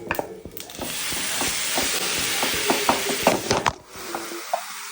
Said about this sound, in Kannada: ಸೊ ಇದು ಫಸ್ಟ್ ಫ್ರೈ ಆಗಲಿ